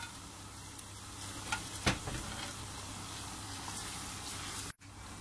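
Spinach tossed into a hot frying pan and stirred gives a soft, steady sizzle with a few scraping spoon strokes and brief clatter, fairly quiet and without voices.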